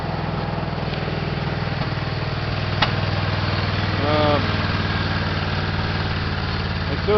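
A Craftsman GT5000 lawn tractor engine idles steadily nearby with a low, continuous drone, marked by occasional sharp pops and crackles through the muffler.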